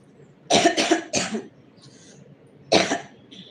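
A woman with a cold coughs in a quick cluster of three harsh coughs, then a pause and one more single cough, close and loud, during a live singing stream.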